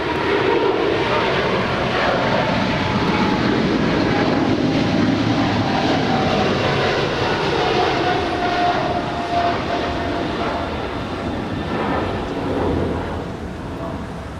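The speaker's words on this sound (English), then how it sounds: "that's British Airways Flight 28 Foxtrot to London Heathrow. It's a 777-300ER." A British Airways Boeing 777-300ER at Los Angeles International Airport gives a loud, continuous jet roar that holds steady for the whole stretch and eases slightly at the end, with no voices.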